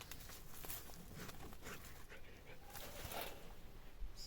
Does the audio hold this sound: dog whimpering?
yes